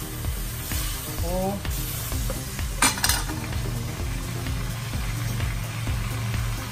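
Bitter gourd and fried tofu sizzle loudly in a hot pan while being tossed and stirred, with metal utensil scrapes and clinks over the steady frying hiss.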